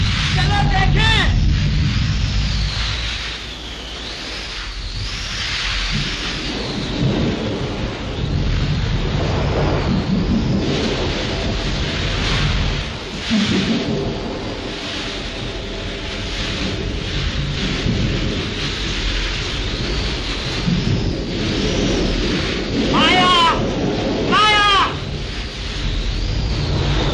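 Stormy weather in a 1937 Hindi film scene, with dense rain hiss and rumbling thunder that keep up steadily throughout, joined by a swelling music score and a few scattered voices.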